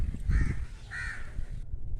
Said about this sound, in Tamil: இங்கே பாருங்கள், காக்கா உட்காந்துருக்கு.